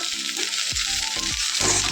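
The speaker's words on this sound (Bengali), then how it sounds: "আলু ভাজার মধ্যে একটা ডিম ভেঙে দিয়েছি" Sliced potatoes with an egg broken over them fry in a pan with a steady hiss. Several sharp scraping knocks from a spatula or utensil stirring land at roughly even intervals.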